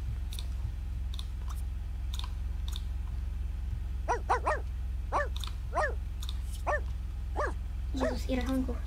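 A dog in The Sims 2 barks in a quick run of sharp, repeated yaps over a steady low game hum, with a few whimpery tones mixed in, moderately close and clear.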